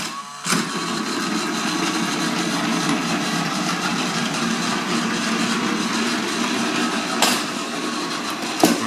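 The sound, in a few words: toy bullet train running on track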